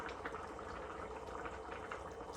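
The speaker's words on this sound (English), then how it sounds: "I'm going to pour some more water in it" Water pouring steadily into a pot of half-cooked red beans, a continuous bubbling gurgle with a faint rising fill tone, close and quiet.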